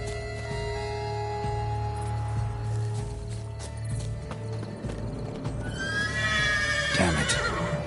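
A unicorn in The Witcher 3 neighs loudly near the end, a bright rising whinny over steady clip-clopping hooves and background game ambience, with no talking.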